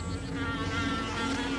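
A male bee in the Amazon forest buzzes continuously and close by, a dense, steady hum with layered overtones that holds for the whole moment.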